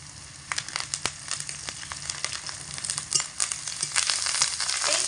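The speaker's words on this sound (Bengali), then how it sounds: "আর এখানে দিয়ে দিচ্ছি 2টো শুকনো লঙ্কা ছোট ছোট করে কেটে নিয়েছি। দিয়ে দিচ্ছি এখানে কারি পাতা কিছুটা পরিমাণে।" Dried red chillies cut into small pieces and curry leaves sizzle in hot oil, a steady crackling hiss broken by sharp spits and pops that build toward the end, heard alone up close.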